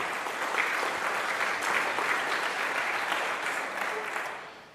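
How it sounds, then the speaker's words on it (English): A sustained round of applause from a concert audience for a foundation's support before a klezmer performance, dense and even, slowly thinning toward the end, with no talk over it. "So a quick round of applause for them as well."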